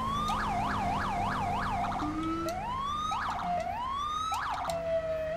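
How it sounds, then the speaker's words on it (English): Police car sirens in Grand Theft Auto V wail close and loud, a rapid yelp cycling several times before shifting into slower rising wails, with a low engine rumble running underneath and no talking. "I want the rumble siren"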